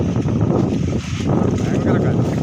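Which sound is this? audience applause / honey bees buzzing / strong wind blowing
strong wind blowing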